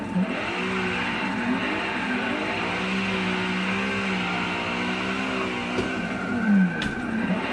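A Mazda RX-7 FC3S fitted with a 2J engine of about 400 horsepower drones steadily in a drift simulator game, its pitch rising and falling as revs change, with a brief tire squeal near the end.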